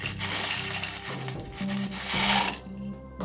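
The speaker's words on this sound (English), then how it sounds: "I'll take my large grit soil to fill in the bottom here" Coarse large-grit bonsai soil poured into a pot over a drainage screen, a dense gritty rattle and hiss of small granules spilling steadily, loud and close, trailing off at the end.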